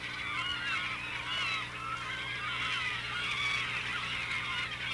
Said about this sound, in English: boy, the birds are sure excited